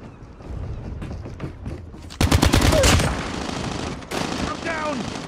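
Call of Duty Mobile rifle fire erupts in a loud rapid burst after two seconds, followed by further shots and game effects, with speech and game announcements mixed in.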